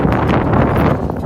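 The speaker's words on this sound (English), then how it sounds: "it's quite windy, so I'm unable to talk clearly" Strong, steady wind buffets the microphone on an open ferry deck, a loud continuous roar with gusty rumble and no talk.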